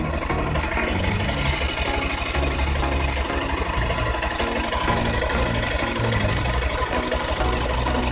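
A brand-new 2021 Honda X Blade BS6 motorcycle engine runs close by with a steady, rapid single-cylinder thrum and a buzzy exhaust note, holding an even, constant pace throughout.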